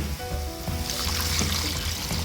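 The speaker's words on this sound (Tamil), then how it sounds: "கொஞ்சமாக தண்ணி சேர்த்துக்கலாம்" A faint trickle of water pours into a pan of sautéed masala for egg curry, soft and continuous, with light splashing over a low background hum.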